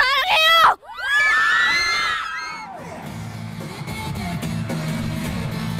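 Thousands of fans scream and shriek at a K-pop concert in Seoul, loud, high and overlapping. The crowd noise settles into a dense, sustained roar with a low musical drone underneath.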